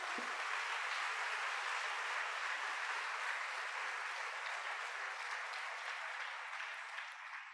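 Warm, sustained applause from a church congregation, a dense wash of clapping that holds steady for several seconds, fairly distant and even, tapering slightly at the end.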